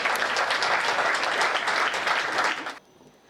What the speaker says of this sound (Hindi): नेहा शर्मा नमन के लिए जोरदार तालियां बजाएं।